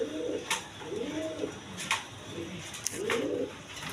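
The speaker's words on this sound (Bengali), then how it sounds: "অরিজিনাল রেসার কবুতর, দেখেন পায়ে ট্যাগ ম্যাগ লাগাল আছে মাদিটার" Racer pigeons on a farm, including a leg-tagged hen, coo three times in soft, rolling, low calls spread across the moment, close by, with a few faint clicks and rustles between them.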